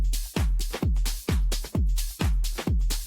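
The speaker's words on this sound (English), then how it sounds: "For me, always the first thing is the drum loop." A punchy house music drum loop with a deep booming kick on a steady four-beat pulse, crisp hi-hats and claps riding on top, loud and upfront.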